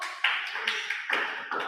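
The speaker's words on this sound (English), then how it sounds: "Big round of applause." A small classroom audience gives a few scattered claps in an Indian history lecture, around four or five distinct close, sharp hand claps spaced evenly apart with no talking over them.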